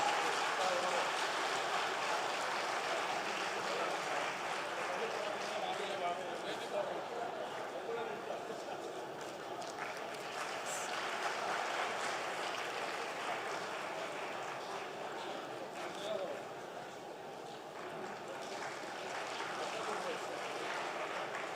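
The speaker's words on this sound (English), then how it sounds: "A big round of applause." An audience at an award ceremony during a community gathering gives a long, continuous round of applause, a steady wash of clapping that stays at an even level throughout.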